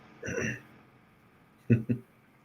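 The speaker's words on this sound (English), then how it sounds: "I have hiccups." Two short, close hiccups come in quick succession after a brief vocal sound, against a quiet background.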